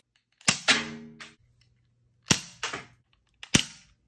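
Dart Zone Pro foam dart blaster fitted with a muzzle flash attachment, firing in a darkened room: a few sharp snapping shots, each followed by a brief rattle, close and fairly loud with silence between.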